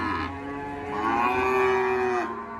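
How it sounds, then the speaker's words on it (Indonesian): A sacrificial cow for Qurban, at a crowded cattle market in Payakumbuh, gives one long, loud, close moo that rises and falls over a low background murmur, with no talk. "Tumpukannya sapi kurban semua nih, dari ujung ke ujung sapi kurban semua"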